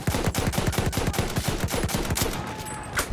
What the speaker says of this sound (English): Is that a sniper? Or is that some kind of like bolt action?